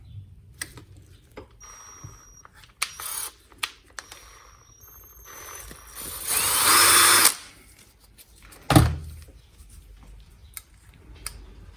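A power drill whirs in a short, steady burst midway, drilling a pilot hole while working on a Lansing P60 electric tug truck, surrounded by scattered clicks and knocks of handling tools, then one heavy thud.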